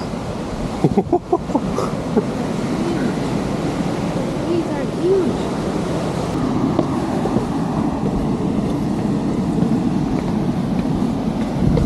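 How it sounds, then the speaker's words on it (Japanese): Caribbean Sea surf rolls onto a Colombian jungle beach as a broad continuous roar with wind buffeting the microphone, a few close knocks early on, and a person talking faintly over it. "カリブ海の海、カリブ海の波が聞こえてきます。"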